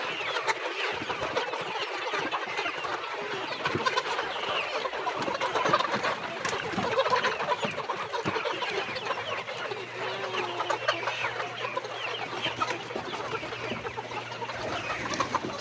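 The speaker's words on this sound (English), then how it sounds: "So you can see all the birds are running towards where the feeds are being put." Layer chickens on a poultry farm cluck steadily in a busy, overlapping flock chorus as they run toward feed being put out, the sound close and continuous with no talking.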